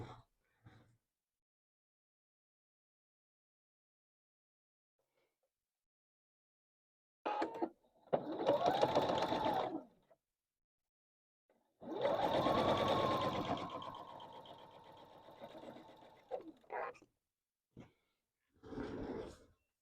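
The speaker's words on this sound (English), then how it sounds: "So this is going to get sewn to the end here." A sewing machine stitches pieces of a quilt block in two steady runs of a few seconds each, separated by quiet pauses with brief handling noises.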